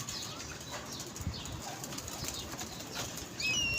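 A Kasuri pigeon flaps its wings in quick bursts of soft fluttering beats, fairly faint and close, with no talk.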